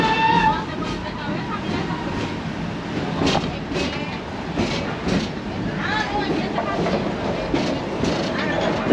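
An amusement park train ride at Busch Gardens rumbles steadily along the track with clattering wheels and occasional squeals, while a voice talks over the ride.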